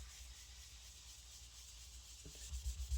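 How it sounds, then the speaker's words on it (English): Steady, soft rubbing as a magic eraser scrubs a spot in a bathroom after a spray of Zep foaming cleaner, with a few heavier, louder strokes near the end and no voices. "then use a magic eraser. See if I can scrub that out."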